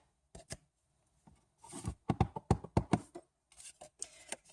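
Paper card being pushed, flipped and slid into a small gift tag box, giving a series of close, crisp papery taps, rustles and sliding scrapes in quick irregular bursts.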